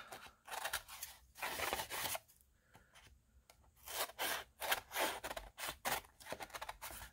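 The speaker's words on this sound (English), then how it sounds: "I'm just trimming off all the part that when I was doing the collage work, it was hanging over" Scissors trimming overhanging paper from collage Christmas gift tags: quiet, close snips and rasping cuts in uneven bursts, with short pauses between runs of cutting.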